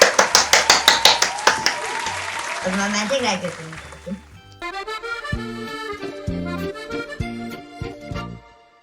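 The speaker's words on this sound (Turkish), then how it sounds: "Alkış." Brief burst of hand clapping from a small group playing a what's-in-the-box guessing game, about a dozen quick claps at the start, then fading into other sounds.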